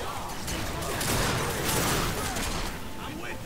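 Gunfire in The Darkness 2, fired to shoot out the lights, comes as a dense, loud burst of shots over a constant roar of game noise, close and continuous, with no talk.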